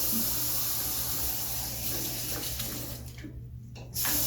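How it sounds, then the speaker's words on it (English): Water runs from a sink tap in a school restroom for handwashing. It is a steady hiss that carries most of the way, then thins out and briefly drops before the flow returns at full strength. "I'm going to turn on the water, get some soap."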